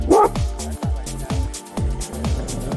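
A dog barks repeatedly outdoors at night, loud, close bow-wow barks in a steady rhythm with brief gaps, joined by an occasional yip.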